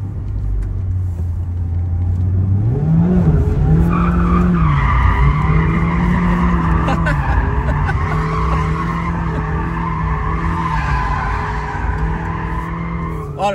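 A Mazda MX5 slides around a roundabout, engine rumbling as its tires squeal in long wavering, rising tones that persist for several seconds, loud and close.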